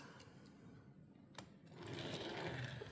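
A Hot Wheels Nissan Leaf Nismo toy car rolls across a surface, giving a soft, continuous whirring hum of small wheels that grows slightly louder near the end.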